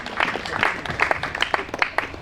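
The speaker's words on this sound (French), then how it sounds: "Est-ce qu'on peut les applaudir très très fort?" An audience at a vow renewal claps for the couple in a short, moderate burst of scattered hand claps, with individual claps distinct rather than a dense roar.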